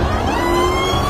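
A Dodge Challenger Demon sports car engine revs loudly and steadily, with a sustained mid-range roar and a rising tonal whine over a dense rumble, alone without voices.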